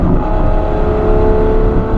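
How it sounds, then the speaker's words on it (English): Novitec Ferrari F12 N-Largo V12 held at high revs while driving, a loud, close, continuous engine bellow with a steady droning tone and no voices. "And then I'm gonna try and keep the revs up so you guys just hear that V12 bellowing."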